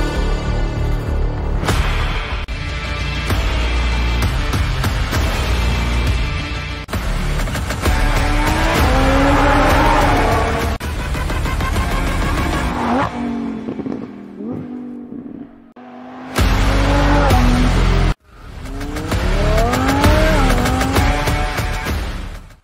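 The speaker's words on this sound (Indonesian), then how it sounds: "membeli sebuah mobil mewah Lamborghini Huracan Evo dengan kekuatan 640 tenaga kuda" A Lamborghini Huracan Evo sports car with a 640-horsepower engine revs and accelerates loudly, its pitch climbing through several gear changes, with a brief drop and sharp cutoff before surging again.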